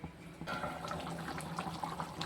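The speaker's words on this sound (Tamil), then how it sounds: "இன்னும் கொஞ்சம் தண்ணி ஊற்றிக்கிறோம் தண்ணி ரொம்ப ஊற்றக்கூடாது" Water poured into a simmering garlic tamarind curry, a sudden steady gush of liquid starting after a short pause and continuing close and moderately loud.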